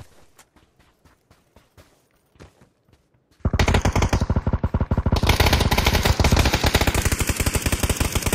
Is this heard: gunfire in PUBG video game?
yes